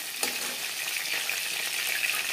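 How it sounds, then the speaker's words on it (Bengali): Katla fish pieces frying in hot oil with green chillies and ginger make a continuous dense sizzle close by, steady and unbroken, with a faint sharp crackle early on and no voices. "মাছ ভাজা হয়ে গেছে,"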